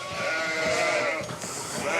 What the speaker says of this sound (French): Là, je nourris des brebis